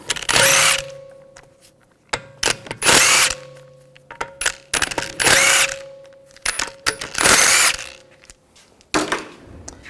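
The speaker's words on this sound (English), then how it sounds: "Using a 17mm socket, we're going to take the lug bolts out." Power tool with a 17mm socket spinning out wheel lug bolts on a 2011-2018 Volkswagen Jetta TDI wagon, several loud whirring bursts of a second or so each, separated by short pauses and clicks.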